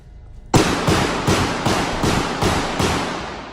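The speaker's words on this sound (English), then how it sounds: "A 44 automatic pistol." A .44 automatic pistol fires roughly eight loud, sharp shots in a steady rapid rhythm, each crack close and echoing briefly into the next, with no talk.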